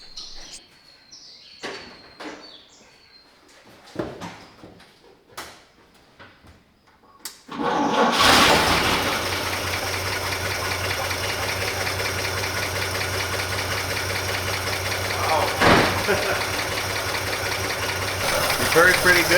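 A 1941 Chevy Coupe engine catches after quiet fiddling and faint bird chirps, then runs loud and steady at a rough idle for the remaining seconds, with voices early on.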